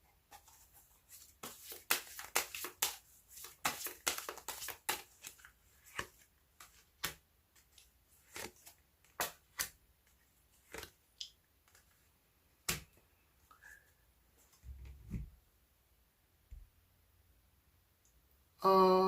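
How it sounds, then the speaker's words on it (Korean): Tarot cards are shuffled and drawn, giving a string of sharp, close, dry clicks and snaps that come in quick clusters at first and then grow sparse, with quiet gaps between them and no voices. "그럼 지금 당장 여러분이 취해야 할 액션에 대해서도 카드 뽑아보도록 할게요."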